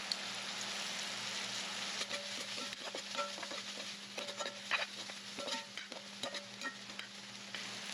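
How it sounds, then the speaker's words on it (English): Chickpea coconut curry base with salt and curry powder fries in a pan, a steady dense sizzle with faint scattered clicks of stirring, moderately quiet and unbroken, no voices. "I'm going to leave this to fry for about 2 minutes"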